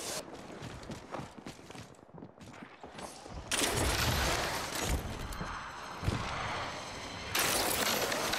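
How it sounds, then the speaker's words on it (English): Video game gunfire crackles in scattered shots at first, then a louder, dense burst of firing and impacts takes over the second half, with sharp spikes standing out. "They're shooting at me."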